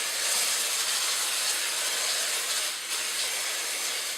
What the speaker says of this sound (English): cover them with a nice coating of non-stick spray